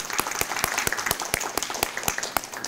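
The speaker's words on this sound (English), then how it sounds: "a big round of applause" Applause at a Parkland College tutor appreciation event, sparse and distinct, with individual claps landing at a brisk, uneven rhythm, fairly quiet and close, with no voices.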